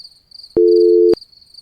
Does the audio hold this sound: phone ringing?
yes